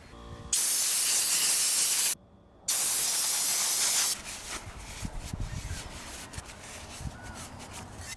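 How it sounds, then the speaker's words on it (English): Compressed air blasts out of a dirty small-engine air box in two loud, sustained hissing bursts separated by a short gap. Quieter rubbing and wiping sounds follow. "I'm going to use a little bit of compressed air and some rags"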